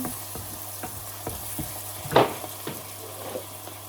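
Ricado, a mix of aromatics, sautés in a pan with a steady low sizzle, punctuated by light ticks and one louder scrape or clatter partway through.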